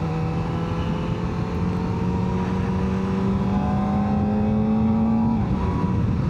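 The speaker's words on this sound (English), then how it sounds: "that Akrapovic exhaust sounds really good as well" A 2025 Kawasaki ZX-4RR with an Akrapovic exhaust accelerating close by, the engine note climbing steadily in pitch for several seconds, then easing off; no talking.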